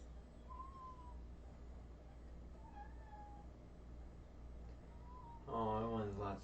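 A cat meows several times, short faint calls spread across the clip over a low steady hum, followed by someone talking loudly at the end.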